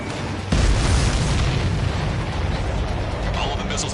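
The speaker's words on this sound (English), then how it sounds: "All of the missiles have been destroyed." Missiles explode in Ace Combat 7 as a loud, close boom at about half a second, followed by a long rumbling roar of blasts that slowly thins out. Speech may sit under the noise.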